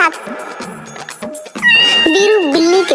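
A cat meows in a cartoon story, several tonal, rising-and-falling meows that grow louder in the second half, following softer voiced sounds at the start.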